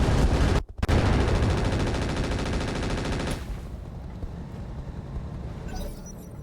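Minigun fire in the mech game RogueTech: a loud, dense continuous stream of rapid shots with one brief break, then trailing off into a softer whirring spin-down.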